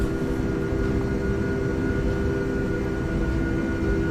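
Simulated airliner holding on runway 31 at Kai Tak in FSX, a steady loud engine drone with a constant tonal hum and no talking.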